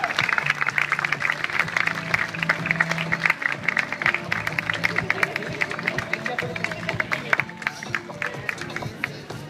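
A crowd claps steadily for a beauty queen on the catwalk at a pageant event in Cancún, with cheers and voices mixed into the sustained applause.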